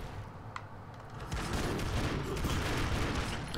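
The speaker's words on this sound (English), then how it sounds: "Just shoot toward through the ground at the right, and you'll blow up that turret thing" Dense, continuous gunfire and explosions from Broforce blowing up an enemy turret, a steady loud barrage that swells after a brief pop and keeps rumbling to the end.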